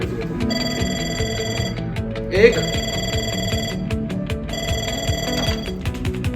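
A telephone rings in a hotel front-office training setting, repeated bright electronic ring bursts with steady tonal pulses throughout, heard clearly over someone speaking.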